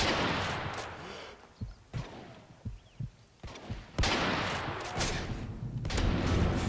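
Shotgun fire in Modern Warfare 3. Several sharp, separate blasts come at uneven intervals among louder, busier stretches of game sound.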